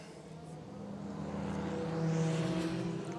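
Racing cars circuit Zandvoort at reduced speed behind the safety car, a steady engine drone that swells slightly as the pack passes, with a continuous low hum throughout.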